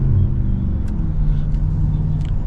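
A Mercedes G63 AMG engine in sports plus mode gives a steady, loud low rumble throughout, holding a fairly constant drone with slight swells and no clear revving peak.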